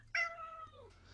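A cat meows loudly indoors, one drawn-out wavering call that starts abruptly and slides downward, close to the microphone, followed by a fainter trailing sound.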